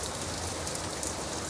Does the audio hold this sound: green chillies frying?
no